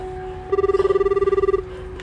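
An incoming call rings on a cellphone: a steady electronic ringtone of rapid, evenly pulsed beeps lasting about a second, fairly close and clear over a quiet room background.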